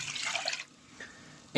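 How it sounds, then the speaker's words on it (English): Cold water pouring into an orange gelatin dessert mix in a bowl, a splashing, trickling stream for the first half second, then fading to quiet. "cold water I'm going to mix in."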